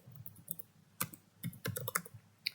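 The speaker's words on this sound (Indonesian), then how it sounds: "mengetik git checkout." Keys clatter on a computer keyboard as a git checkout command is typed, a quiet, uneven burst of crisp clicks with short pauses between strokes.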